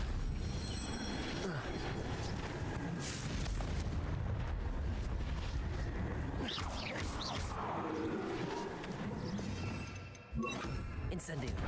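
A Confringo blasting spell goes off in a video game, a long rumbling explosion with crashing debris that roars loud and continuous for about ten seconds before cutting off abruptly.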